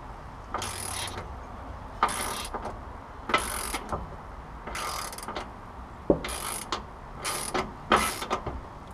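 A hand ratchet clicks in repeated short bursts while bolts are tightened on the front end of a 1972 Oldsmobile Cutlass, a close, crisp series of rapid clicks separated by brief pauses in a quiet garage.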